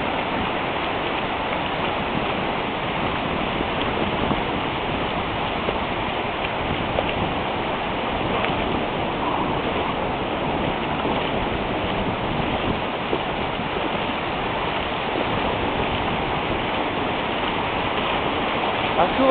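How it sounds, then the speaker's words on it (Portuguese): Heavy rain pours on a beach by a rough sea in Ubatuba, a constant dense hiss of rain and surf that holds steady throughout. "A chuva está muito forte"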